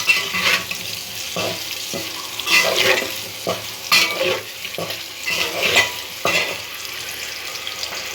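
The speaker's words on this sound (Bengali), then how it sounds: "ডিম ভাজা হয়ে গেছে" Eggs fry in a pan with a steady sizzle, broken by repeated stirring and scraping knocks of a utensil against the pan at an uneven rhythm, close and clear with no talking.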